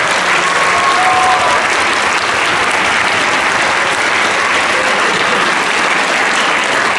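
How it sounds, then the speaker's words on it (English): Dense, steady applause from parents and families filling a hall at a sixth grade middle school band concert, loud and continuous throughout with no talking. "So I want you to give a nice round of applause to you, the parents,"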